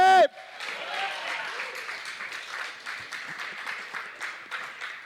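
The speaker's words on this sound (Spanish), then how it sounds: "Dele palmas fuertes al Señor" A church congregation claps hands to the Lord in a lively, roughly rhythmic burst of many hands that follows a brief loud voice at the very start and continues at moderate volume.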